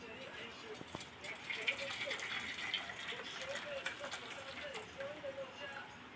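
Boiled jaggery water is poured through a strainer, giving a steady, soft watery trickle that runs throughout, with faint voice-like tones underneath.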